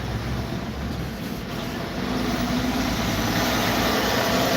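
Semi-truck engines rumbling in busy city street traffic, a steady low drone that swells slightly louder toward the end, heard from inside a car with no talk.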